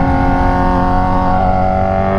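A Kawasaki Z1000 motorcycle pulls hard in second gear, its engine note climbing steadily and loud, close and continuous, with a dense rising harmonic howl and no voices.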